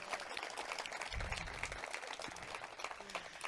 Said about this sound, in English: So I'd like a little warm round of applause for her.